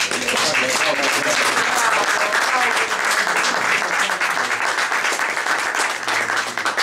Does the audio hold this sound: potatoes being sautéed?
no